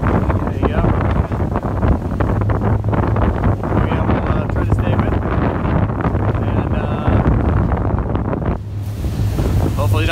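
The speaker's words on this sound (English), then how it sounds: "Too windy for you and a little bouncy up here in the front of the boat" Strong wind roars and buffets the microphone at the front of a foiling TF10 sailing trimaran while waves and rushing water churn beneath, loud and continuous throughout.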